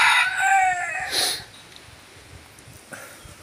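A pet rooster crows in a burst at the start, loud and close, followed by a brief second call and then quiet.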